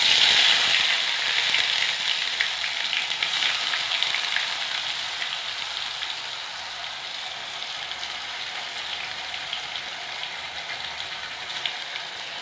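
Onion paste frying in hot oil with whole cumin in a wok (kadai) for a Mughlai potato curry, giving a steady, loud sizzle that starts strongest and then settles into a continuous hiss.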